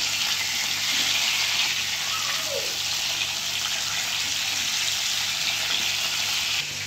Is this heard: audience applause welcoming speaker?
no